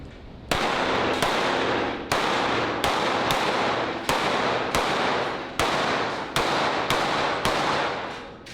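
Rapid fire from a Tisas PX-57 5.7mm pistol on an outdoor range: about eleven loud, sharp shots, mostly in quick succession with a few short pauses, each crack ringing out briefly.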